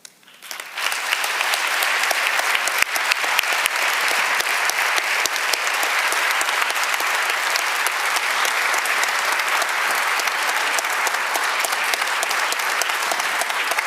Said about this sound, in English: The applause does you credit.